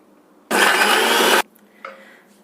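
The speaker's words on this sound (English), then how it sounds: "Now grind it together." A blender grinds cooked carrot, pieces of de-seeded dates and milk into a paste for carrot and dates payasam, running loud and steady for about a second, then stopping, followed by a faint clatter.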